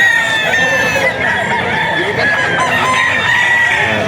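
A young stag rooster crows repeatedly nearby at an auction market, its cracked, thin calls loud and drawn out, with other birds clucking in the background.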